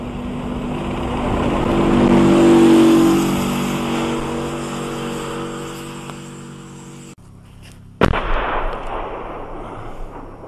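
Artillery fire during street fighting in Debaltseve: a long, loud rumbling roar that swells and fades, then a sharp, close blast followed by a dying rumble, with no voices.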